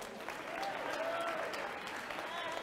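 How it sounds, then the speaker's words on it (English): A congress audience applauds for a teacher from a school, a broad even wash of many hands clapping, fairly distant and soft, with faint voices underneath. "Let's give her a round of applause."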